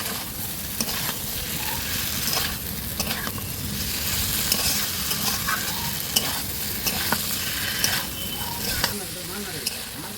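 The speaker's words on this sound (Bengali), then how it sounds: "নেড়ে নেড়ে একটু কষিয়ে নেব" Vegetables and spices for a Bengali shukto are stirred and sautéed in a pan, giving a continuous sizzle under repeated scraping strokes of a spatula, steady and close.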